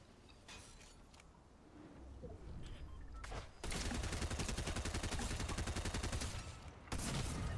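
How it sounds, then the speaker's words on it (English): Rapid bursts of gunfire in the Rumble Ruins video game, starting sparse and then becoming a dense, sustained barrage of automatic shots, loud and continuous near the end. "he's shooting me from there"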